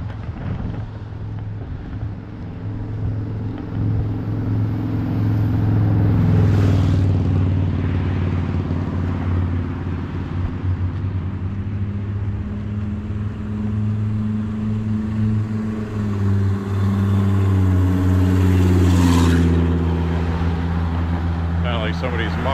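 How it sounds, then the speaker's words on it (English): A loud car with a fallen-off muffler roars past on a street in Lewiston, Maine, its low rumble swelling and fading twice over steady wind buffeting and some talking. "Somebody's muffler fell off."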